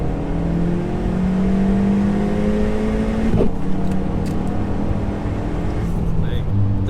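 A stock Skoda vRS 225 with a K3 turbo and a holed exhaust accelerating hard, its loud, raspy engine note climbing through the revs, with a gear change partway, as someone talks over it inside the car.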